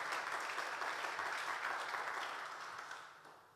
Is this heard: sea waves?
no